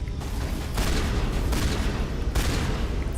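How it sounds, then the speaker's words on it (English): Shotgun fire in Mass Effect, three heavy booming blasts spaced roughly a second apart over a dense, loud rumble of combat noise, with no talking. "I'm gonna break out the shotgun."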